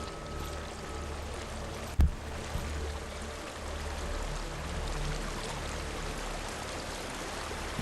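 Steady flowing water in the video game Hellblade: Senua's Sacrifice, a continuous low stream-like rush that runs throughout, broken by one brief thump near the two-second mark.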